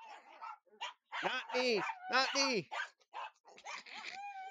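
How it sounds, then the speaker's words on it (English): An excited dog barks and yips loudly indoors in a rapid cluster of sharp barks, mixed with a person speaking nearby. "Whoa, silly dog goes crazy"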